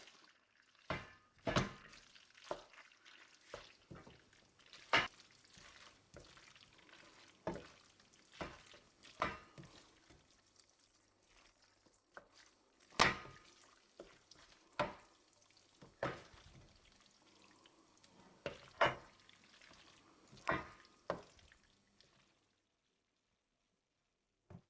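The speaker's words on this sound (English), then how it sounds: "I pour in the mixture of eggs, cream, etc. I gather everything very well and I start mixing." Fettuccine alla papalina being stirred with a poured egg and cream mixture in a pan, with irregular close scrapes, taps and clinks spread over a soft sizzling background and no talk.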